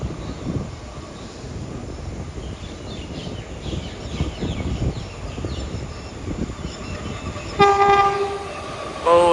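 A Thai western-line train hauled by GEK 4048, a GE locomotive, rumbles past with clattering wheels, then a loud horn blares near the end, sounding twice.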